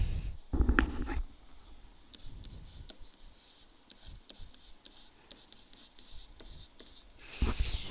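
A pen scratches out an equation by hand in quiet, short bursts of faint strokes and taps, with soft handling bumps at the start and end and no talk.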